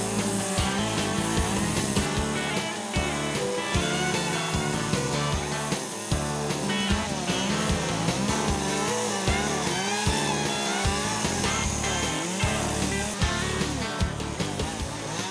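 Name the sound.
chainsaw carving wood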